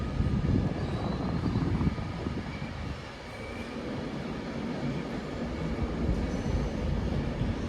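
An eleven-coach Avanti West Coast Pendolino pulls out of London Euston bound for Manchester Piccadilly, a loud continuous rumble and rail roar that dips briefly midway before building again, with no one talking.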